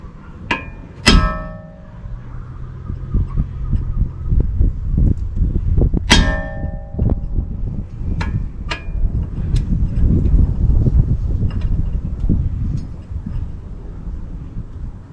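Sharp metallic hammer blows stake a strut nut on a 2007 Toyota Camry LE during front strut replacement: a couple of loud ringing clangs early, then scattered lighter taps over a steady workshop rumble.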